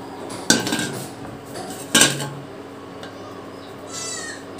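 Prawn upma is served from a pot onto a plate, two sharp metallic clinks of a spoon against the pot or plate, with soft scraping between and after.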